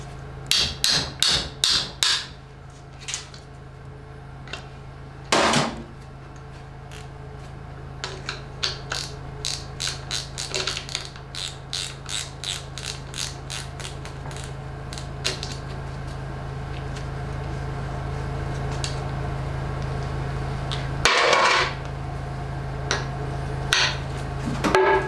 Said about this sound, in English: Most of them will come off fairly easily, you know, with a hammer and a wrench like you see